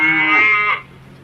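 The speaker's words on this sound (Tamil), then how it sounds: "பசு கதரும்" A cow moos once in a loud, drawn-out call with a slightly bleating quality, fading into quiet near the end.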